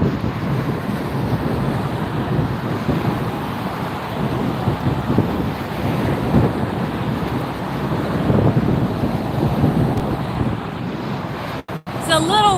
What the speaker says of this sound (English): It's a little wind shaking it.